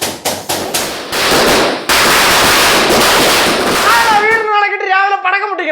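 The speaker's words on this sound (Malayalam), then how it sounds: "രാവിലെ പടക്കം പൊട്ടിക്കണത് ചിലപ്പോഴേ കണി കാണിക്കാൻ വേണ്ടി ഒന്ന് പിള്ളേരായിരിക്കും" Firecrackers are set off on Vishu morning: a rapid string of loud, close, sharp bangs merges into a dense crackling roar, which then cuts out as a person starts talking.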